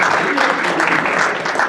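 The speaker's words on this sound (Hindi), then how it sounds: "वाह, आप तालियां बजा सकते हैं।" Audience applause fills a short stretch at an Urdu literary gathering in Atlanta, a dense, steady patter of many hands clapping together with no pauses.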